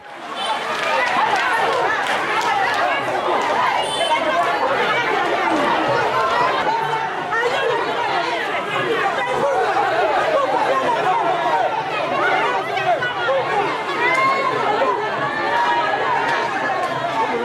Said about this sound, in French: C'est la panique alors qui s'empare de la foule